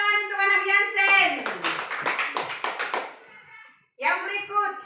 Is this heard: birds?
no